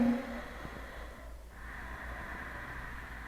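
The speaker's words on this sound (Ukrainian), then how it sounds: "повертаємо глибоке рівне дихання через ніс" Deep, even ujjayi yoga breathing through the nose with a slightly constricted throat makes a soft, close, rasping breath that is steady and unhurried.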